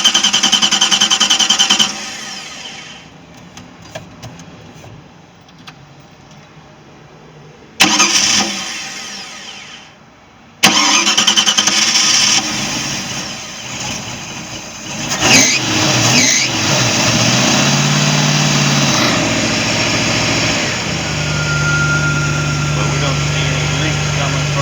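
A Four Winns boat engine cranks and catches after a few stop-start attempts, then settles into a steady, loud idle with a low rumble and some mechanical rattle nearby.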